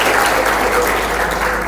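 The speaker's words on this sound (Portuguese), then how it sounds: "Vamos aplaudir uma senhora com a irmã Noemi." Church audience at a worship service breaks into loud, dense applause, steady and close throughout the short moment, with a voice faintly under the clapping.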